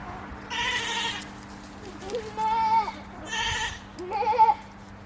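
Goats on a farm bleating in several separate calls, close and fairly loud, with a low steady hum in the background.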